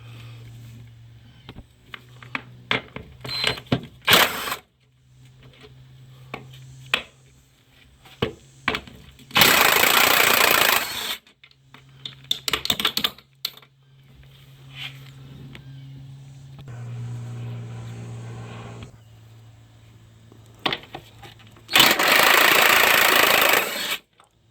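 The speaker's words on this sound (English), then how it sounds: "I'm using my slim ratchet." Slim ratchet clicking in short bursts while loosening 14 mm transmission mount bolts on a 2014-2016 Kia Soul, mixed with metallic tool clatter and handling noise in a shop.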